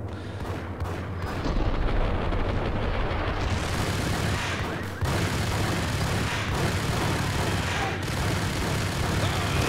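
Gunfire in the video game Max Payne: dense, continuous bursts of shots and booming impacts, loud and sustained throughout, with a brief dip midway before the barrage resumes.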